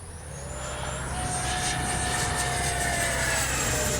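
An FMS 70mm Viper RC model jet's electric ducted fan at full throttle in flight gives a loud, steady high-pitched whine and roar that swells over the first second and then holds, with no talk.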